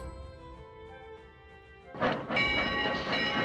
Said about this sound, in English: I bring our little train